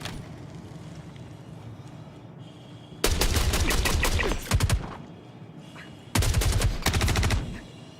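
Automatic gunfire in the video game Star Citizen comes in two loud, rapid bursts of about a second and a half each, separated by a quieter stretch of game ambience.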